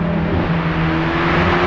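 A Mercedes-AMG GT Black Series in comfort mode passes by, its exhaust a steady, loud, droning rumble that holds evenly throughout with no talk.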